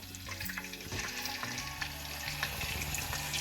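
Chicken thighs and drumsticks drop into a hot pan of cumin and oil, giving a loud crackling sizzle with scraping and clattering, close and continuous, with no talking.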